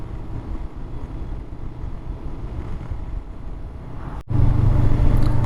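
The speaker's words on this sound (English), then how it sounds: "Trucks passing by." Trucks roll past on a busy road in Romania, a steady close roar of traffic that briefly cuts out, then returns louder and heavier.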